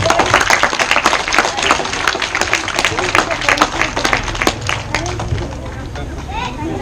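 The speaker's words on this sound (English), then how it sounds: "Clap, clap, everyone." Students at a school meeting of teachers, parents and students clap in a lively, uneven patter of many hands that continues for several seconds, with people talking underneath.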